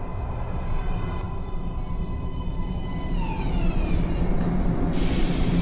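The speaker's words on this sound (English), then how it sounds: "Please step away from the edge of the platform. Train coming in." A metro train in the video game Metro Last Light pulls into a platform, a loud, continuous rumble with high metallic squeals and whines rising and bending as it arrives.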